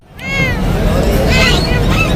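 A parrot at a bird market in Karachi imitates a cat's meow, loud and close, with a rising then wavering mew over busy crowd hubbub.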